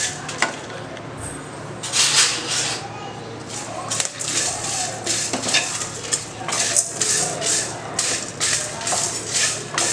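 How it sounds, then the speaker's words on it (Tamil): Curry leaves, dried chillies and grated coconut roast in a pan for idli sambar, heard as busy, rhythmic spoon scraping and clinks against the metal over a light sizzle. "அதோடு சேர்த்து இந்த தேங்காய் பூவையும் இப்போ போட்டு வறுக்கிறேன்"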